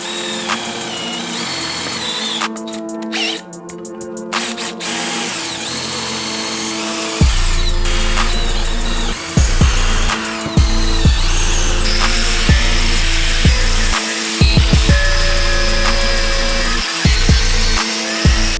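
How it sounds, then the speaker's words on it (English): A power drill whines and grinds through steel tank armor plate in long loud bursts, pausing and restarting several times, with a high screech at the start. "we're just going to drill out a bunch of holes"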